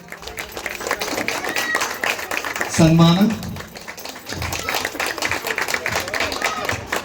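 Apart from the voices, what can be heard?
audience clapping loudly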